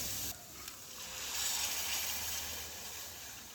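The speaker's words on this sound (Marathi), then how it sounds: "त्याच्यात आपण पाणी घालणार आहे" Water hits a pan of sizzling fenugreek tempering for a traditional methi dish, giving a sudden loud hiss that swells and then settles into a steady, softer sizzle, with no talking.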